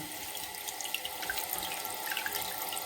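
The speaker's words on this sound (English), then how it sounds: "I'm just going to turn the water back on." Water rushes steadily into a toilet tank as it refills after the supply is turned back on, a continuous hissing flow with faint splashes and no voices.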